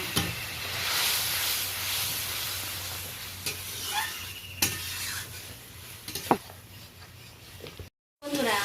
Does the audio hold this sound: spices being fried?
yes